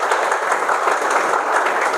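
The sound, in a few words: audience clapping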